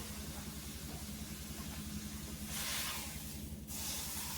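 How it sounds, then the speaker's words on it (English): Pot roast browning in a hot pan gives a faint, steady sizzle under a low hum, with a brief louder hiss burst near the end. "I'm going to brown that a little bit"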